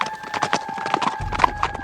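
Black horses of the four horsemen of the apocalypse gallop in a steady run of hoofbeats over a droning musical backdrop, with a deep rumble joining toward the end.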